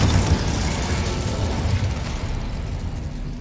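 A fiery Incendio spell cast in Hogwarts Legacy, a loud, dense burst of crackling, roaring flame that holds steady for a few seconds before easing slightly, heard alone without voices.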